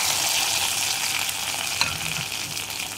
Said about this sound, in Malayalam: അപ്പോൾ ഞാൻ ഈ വറവ് റെഡിയാക്കിയത് നമ്മുടെ കറിയിലേക്ക് ചേർക്കുകയാണ്.